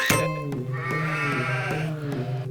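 A pet goat bleats in a drawn-out, quavering cry, repeated in a steady pulsing rhythm, close and fairly loud with no voices over it.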